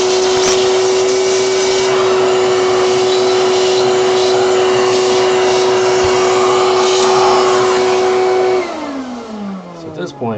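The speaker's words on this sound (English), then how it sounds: "once again the dry wet vac becomes a good friend of yours" A wet/dry shop vacuum sucks old thermal paste off a Gigabyte Windforce GTX 970 graphics card, a loud, steady whining roar that holds for about eight seconds before winding down and falling in pitch.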